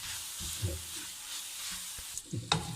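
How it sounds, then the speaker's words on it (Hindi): Desiccated coconut is stirred into a barfi mixture in a pan, giving a soft, close scraping and faint sizzle, with a few sharper clicks of the spoon near the end. "बस नारियल का बुरादा डालने के बाद आपको ज़्यादा पकाना नहीं है, बस जस्ट मिक्स करना है।"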